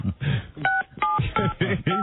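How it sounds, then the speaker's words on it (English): Telephone keypad tones dialing a cell phone: a quick series of about six separate beeps in a steady, evenly spaced rhythm, heard clearly over a narrow phone-line sound. "Yeah, we're trying his cell phone."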